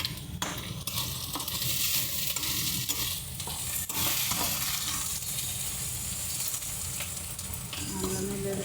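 Onions fry loudly in a hot pan, a thick bright sizzle with crackling bursts and a low rumble beneath, steady and close for the whole stretch, without voices.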